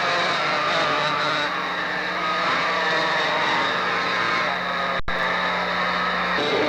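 Race cars accelerating out of turns 3 and 4 at Hickory Speedway, a loud, sustained roar of engines rising in pitch, with a brief dropout near the end.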